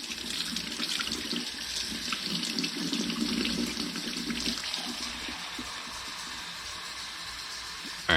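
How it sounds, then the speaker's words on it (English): Warm tap water runs steadily from a kitchen faucet into a container for pizza dough, a continuous splashing stream heard close up with no speech, ending in a brief bump. "I don't want to sit there letting water run"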